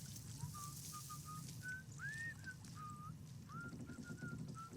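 An enemy character in the video game Atomfall whistles a faint, wavering tune in short notes over a low ambient game backdrop.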